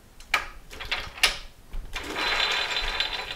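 A threading lever on a lathe gearbox shifted by hand gives two sharp metallic clunks, then a steady mechanical whirr sets in and carries on to the end.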